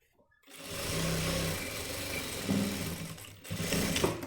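A sewing machine stitches a waist belt onto a pant, a close, continuous motor whir in two bursts with a brief pause between, busy mechanical clatter throughout.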